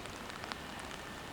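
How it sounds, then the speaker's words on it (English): Heavy rain patters densely and steadily on a surface, a constant hiss with no voices. "It's pouring with rain,"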